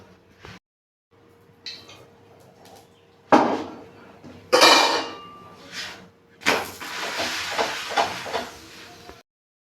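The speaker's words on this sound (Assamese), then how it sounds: "এয়া ৰোলৰ বাবে ময়দাৰে প্ৰস্তুত কৰা ৰুটি বেলিলোঁ আৰু এয়া টাৱাত দিলোঁ" Rolled flour roti laid on a hot tawa griddle for a chilli paneer roll gives off bursts of sizzling hiss, starting sparse with short spits and swelling into a longer, rougher crackle near the close.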